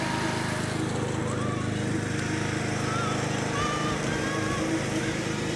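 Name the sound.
lawn mower mowing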